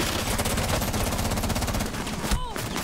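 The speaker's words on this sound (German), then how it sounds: "Möchte jemand einfach durch die Wand sprayen?" Automatic gunfire sprays through a wall in Rainbow Six Siege, a loud, rapid, continuous burst of closely spaced shots lasting over two seconds before a short pause and one last crack.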